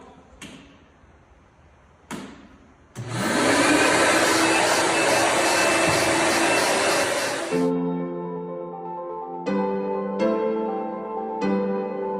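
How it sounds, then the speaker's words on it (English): A Rug Doctor carpet cleaning machine used on synthetic ice starts with a few thumps, then runs with a loud, steady broadband whir for several seconds before dropping to a harmonic motor hum broken by clicks. "now we're going to get started with the rug doctor"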